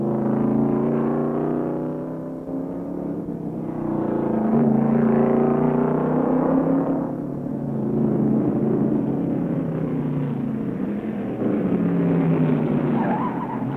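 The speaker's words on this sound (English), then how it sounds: "Dr. Don Tarr in number 37 travels sideways through turn two and brings out the yellow" Stock race cars roar around the Riverside road course at the 1970 Falstaff 400, one car sliding sideways through a turn, a sustained loud engine drone that swells and fades as cars pass, with no talk.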